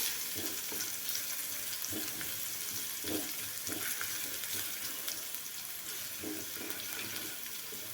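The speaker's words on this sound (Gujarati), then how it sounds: "લસણને એકદમ સરસ રીતે ચડી ચડવી લેવાનું છે" Crushed garlic sautéing in oil in a pan for Kathiyawadi dahi tikhari, a steady close sizzle with regular spoon stirs scraping through it at roughly even intervals.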